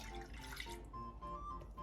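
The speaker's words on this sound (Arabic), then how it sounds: "عندي هون المي" Water pours from a cup into a bowl with yeast, sugar and warm milk for ma'rouk dough, a soft trickling splash over steady background hum, fading after about a second.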